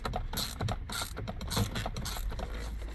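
A ratchet loosens the 10mm bolts holding a Nissan Maxima steering wheel, giving a quick, close run of rapid clicking pawl ticks in a steady rhythm.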